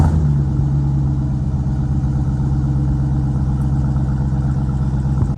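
A 2018 Dodge Durango SRT with its 392 V8 runs steadily near and loud, a deep, even idle rumble throughout with little sign of distinct revving.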